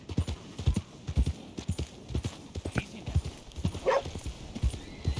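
A horse gallops in Red Dead Redemption 2, its hooves thudding in a quick, steady rhythm close by, with a brief whinny partway through and scattered speech.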